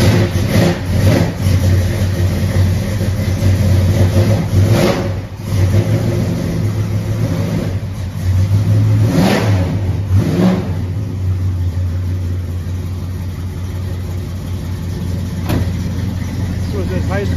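A car engine revs and idles at a car show, near and loud, with people talking over it throughout.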